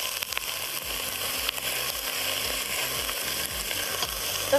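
Shrimp shells and heads crackle and sizzle in hot oil, a dense steady frying hiss with occasional stirring scrapes and pops, close by.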